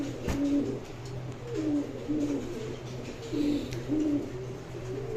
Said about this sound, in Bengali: দুইটাই কলসি গলা কবুতর